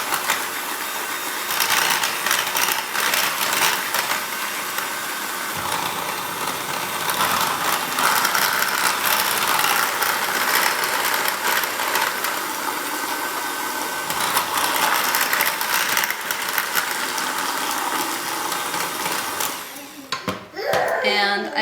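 An electric mixer whirs steadily as it beats waffle batter until smooth, a loud, continuous motor drone that holds for about twenty seconds before slowing and rattling at the end.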